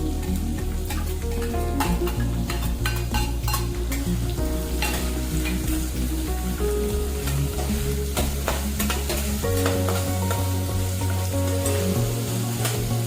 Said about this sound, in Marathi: परतून घ्या कांदा